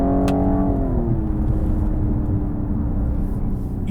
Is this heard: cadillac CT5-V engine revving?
yes